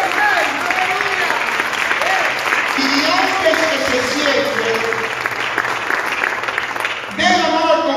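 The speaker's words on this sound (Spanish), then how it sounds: "Den un aplauso fuerte al Señor" A church congregation applauds loudly and steadily during a Spanish-language service in Allentown, Pennsylvania, the clapping dense and continuous while a voice speaks over it.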